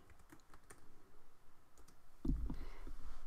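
Typing on a computer keyboard during AutoCAD work, a quiet run of quick clicking keystrokes at close range, with a louder burst of key taps near the end.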